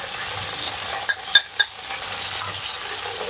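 Okra frying in a wok with salt and turmeric, a soft steady sizzle running throughout, broken by three sharp clinks of a spoon against the pan near the middle.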